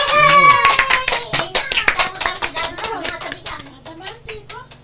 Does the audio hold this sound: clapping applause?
yes